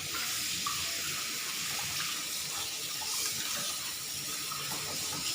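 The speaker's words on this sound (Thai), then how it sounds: "เฮาสิมาล้างผักที่เฮาแช่น้ำเกลือไว้นะล้างเอาขึ้นเลย" Vegetables that were soaked in salt water get rinsed under a steady stream of running tap water, a continuous close splashing rush with no pauses and no talking.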